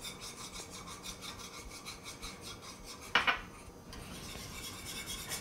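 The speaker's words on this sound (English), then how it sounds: "I'm going to go ahead and add a little bit more while I whisk" A whisk scrapes and rubs rhythmically against a pan as flour is worked into pan gravy, a fast repeated close scratching with one brief sharper clink midway.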